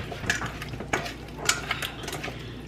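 Chicken gets tossed and mixed in a bowl with a utensil, giving soft, irregular clinks and scrapes against the dish, with a few sharper knocks scattered through a quiet kitchen background.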